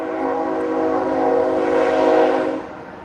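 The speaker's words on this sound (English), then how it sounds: "Damn train's loud, man." A loud train passes close by with a sustained, blaring horn chord lasting about two and a half seconds before cutting off, leaving a lower rumble.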